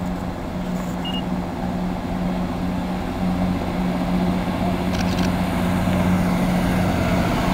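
A CrossCountry Turbostar diesel train pulls out of Nuneaton station with a steady low engine drone and a faint rumble that builds slightly as it departs, heard from the platform with no talk.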